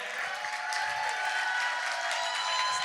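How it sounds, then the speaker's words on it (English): A live concert audience applauds after a band's set, a dense, continuous wash of clapping with a few faint cheers, heard from within the crowd. "Another big round of applause for the band."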